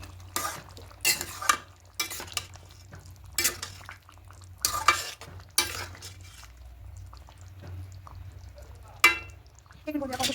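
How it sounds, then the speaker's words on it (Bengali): A spoon stirs garam masala into a potato paneer curry in a pan, giving repeated scraping and clinking strokes in short bursts over a soft, steady sizzle. "এবার খুব ভালো করে মিশিয়ে নেব।"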